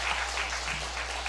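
A church congregation claps briefly during a Sabbath worship service, a soft, diffuse patter of many hands over a low steady hum, heard faint and distant for just over a second.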